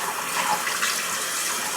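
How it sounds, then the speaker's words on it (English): Tap water runs steadily into a sink as hands are washed, a continuous close hiss and splash with no talking. "let me wash these hands"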